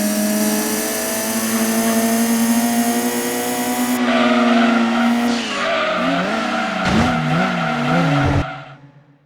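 A touring car in Gran Turismo 2 holds a loud, steady engine whine, then the tone wavers and tires screech as it skids into the back of a Civic and runs off the track, with the engine cutting out and fading at the end.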